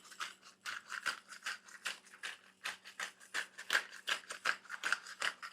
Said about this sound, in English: I'm going to hit this with some fresh cracked black pepper to top it off.